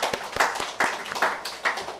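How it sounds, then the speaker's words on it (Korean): A church congregation at an evangelistic meeting claps in a loose burst of uneven hand claps, several sharp strikes spread across two seconds, fairly close and moderately loud. "박수 한번 하죠"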